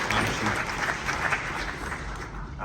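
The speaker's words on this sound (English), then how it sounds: "one more round of applause for Lady Dahlia" An audience applauds a performer, Lady Dahlia, at a live show about spirits, a dense, sustained burst of clapping that stays loud and close throughout with a few faint voices mixed in.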